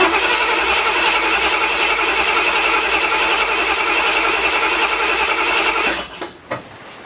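A Ford 351M V8 in a 1978 F150 with open headers cranks loudly and evenly for about six seconds without firing, then the starter cuts off, leaving a couple of faint knocks.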